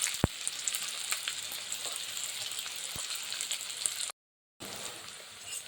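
Onions cut thick and frying in a pan over a medium gas flame with a little salt and turmeric, a steady close hiss with light crackle and a couple of sharp pops, briefly dropping out near the end.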